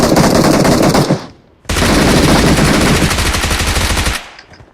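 Automatic-rifle fire in the mobile battle-royale game PUBG Mobile: two long, loud, rapid bursts of close gunfire separated by a brief pause, with no talk over them.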